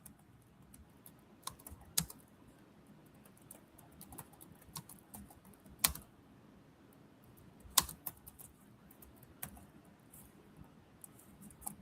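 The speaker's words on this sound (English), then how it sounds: "I'm typing it in, so" Quiet, scattered keystrokes tap on a computer keyboard, irregular clicks with occasional sharper presses and pauses in between, close by in a still room.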